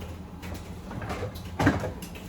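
A kitchen cupboard door is opened and shut during a run-through of a home's food cupboards. It is heard as a few soft handling knocks and a clearer bump near the end, close by in a quiet room.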